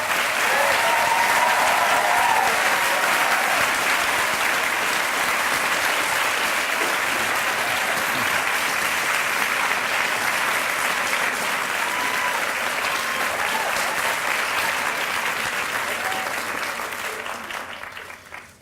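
Sustained audience applause at a Sarah Lawrence College commencement welcoming Fareed Zakaria, a dense crowd clapping loudly for about eighteen seconds before fading out.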